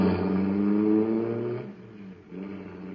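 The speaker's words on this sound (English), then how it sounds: "that cosmic surface car is really roaring" A supercharged car engine running on special fuel roars steadily and loudly, dips briefly, then picks back up, heard alone without voices.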